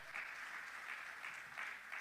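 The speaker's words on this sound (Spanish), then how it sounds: "Dele aplauso a Cristo si eso le emociona" A church congregation applauds steadily during a sermon, a dense, continuous wash of many hands clapping at even loudness throughout, with no voices rising above it.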